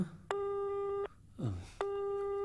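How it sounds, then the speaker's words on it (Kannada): A telephone ringing tone in a horror movie scene sounds in two long steady electronic beeps, separated by a short gap with a brief voice in between. "ರಿಂಗ್ ಆಗ್ತಿದೆ. ತೆಗಿಯೋ ಫೋನು"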